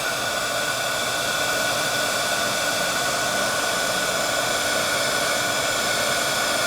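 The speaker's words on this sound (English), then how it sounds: "They puff up with the heat gun for some reason." A heat gun blows hot air steadily over distress-ink art journal pages, a loud, unbroken whooshing roar with no voices.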